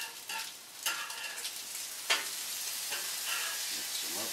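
Food frying in a pan while being stirred and mixed, part of cooking chuck steak and papaya with fried rice; a steady close sizzle with scraping stir strokes breaking through at intervals.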